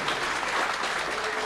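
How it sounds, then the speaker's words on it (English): A live event crowd in Johannesburg claps in a big round of applause, a continuous dense clatter of many hands at steady loudness throughout the brief moment. "So can we just give them another big round of applause,"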